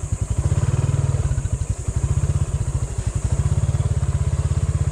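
A motorcycle engine chugs steadily at low speed while crossing a bridge, its close, loud rhythmic putter rising and easing slightly over a constant hiss, with no talking.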